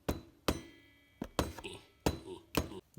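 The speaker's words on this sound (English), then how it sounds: "Just give her a light tap, break the seal, you'll see it move." A soft mallet taps on the cylinder head of an XR70/CRF70 motorcycle engine, giving about six sharp, separate knocks spaced irregularly, close and fairly crisp, with faint background sounds between them.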